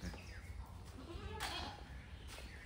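Goats bleat in short, close calls at a goat farm in India, with faint talk and farmyard background noise around them.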